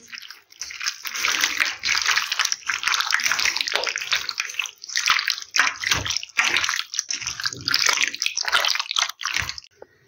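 Water runs steadily from a tap while something is washed under it, a continuous hissing splash with sloshing and brief breaks, close and fairly loud with no talk.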